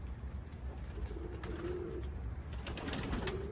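Pigeons coo softly and intermittently at a distance, their low, throaty calls faint beneath a steady outdoor background rumble.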